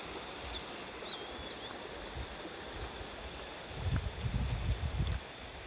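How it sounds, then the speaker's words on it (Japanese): A river flowing beside a bowl-shaped river pool in a park surrounded by nature, a soft steady rush of water, with a few faint bird chirps and a brief burst of nearby rustling. "この間に川がある感じがいいですね。"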